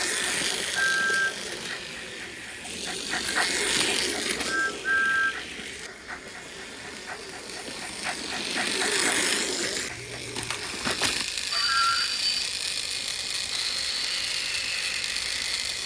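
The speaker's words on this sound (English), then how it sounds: "I love the fact that Thomas has chuffing audio. He has his whistle audio." A 2006 Tomy Thomas toy train from the Water Tower Steam Set plays mechanical chuffing effects with a few brief, high whistle toots, clicking and whirring steadily throughout.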